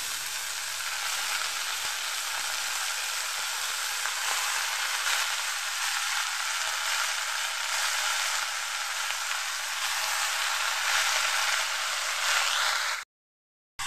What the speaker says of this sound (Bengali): ভাজাটা আমার হয়ে গেছে, এখন আমি শাকটা দিয়ে দিই।